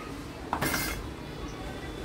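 A spoon clinks a few times against a dish as sugar is added while cooking, brief metallic taps over a soft background hiss.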